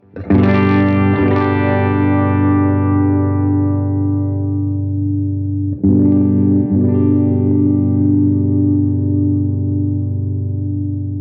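A distorted electric guitar on its bridge pickup strums a chord that rings out long, then is struck again twice; the tone is bright and biting, played alone.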